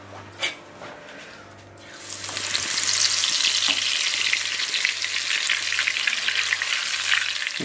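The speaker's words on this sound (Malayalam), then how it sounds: "ഇനി നമുക്ക് എണ്ണയിലേക്ക് അങ്ങ് ഇടുക." Cornflake-coated balls of ice cream drop into hot oil and deep-fry, a dense, steady sizzle that swells after a soft plop and holds loud and close, with faint stirring clinks.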